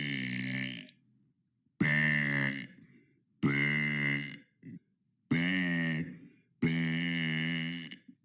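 One person lets out five loud, sustained burps in steady succession, each separated by a brief silence.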